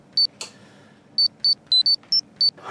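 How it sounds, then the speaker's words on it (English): A phone gives a string of short, high electronic beeps in an uneven rhythm, about seven in quick succession, clear and close in an otherwise quiet room. "It's gonna be interrupted by a phone call."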